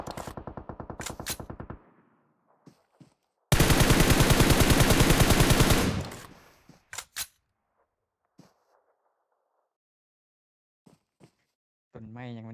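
Gunfire in the PUBG video game: a sustained, loud automatic burst of rapid shots lasting about two seconds, with a shorter rattling volley just before it and a few isolated distant pops afterward, with a voice speaking briefly at the end.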